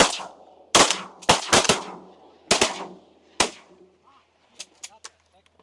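Shotgun blasts ring out during a duck hunt with several hunters, a series of sharp, loud reports in quick clusters, some back to back, followed by faint duck calls and quacks in the background.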